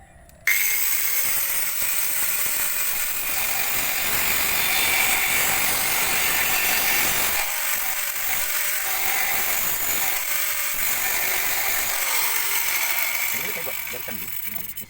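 A machine cuts through a metal pole meant to hold a water tank, with a loud, sustained grinding whine that drops out briefly partway through and then picks up again.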